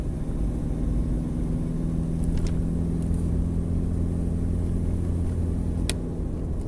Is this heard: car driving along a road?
yes